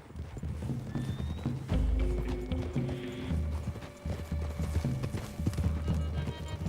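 In the Red Dead Redemption 2 video game, horse hooves clip-clop at a walking pace and a horse neighs once in the middle. Faint background voices sit low under the hoofbeats.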